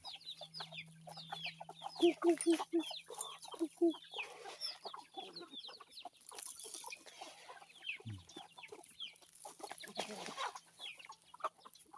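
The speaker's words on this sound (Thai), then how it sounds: "เอาอาหารมาให้ไก่บ้านครับ" Several domestic chickens on a farm cluck and chatter close by in irregular bursts, with a low hum underneath and occasional soft rustling.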